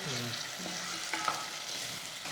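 Drumstick pods being stir-fried with salt and soaked dal in a home kitchen for a village-style drumstick curry: a steady soft frying hiss with light stirring scrapes and one brief clatter, no talk.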